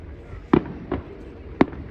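Daytime fireworks go off at Pittodrie with three distant bangs in two seconds: a sharp loud report, a softer thud, then another sharp crack. No one speaks.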